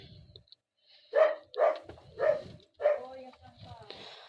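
Dog barking four times in a rhythmic sequence, moderately close, with faint talk underneath.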